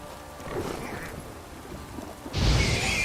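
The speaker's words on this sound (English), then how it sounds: "This downpour's a bastard, it is." Steady hiss of heavy rain in the game The Witcher 3: Wild Hunt with a low rumble, swelling louder near the end as a bright wash of downpour noise takes over.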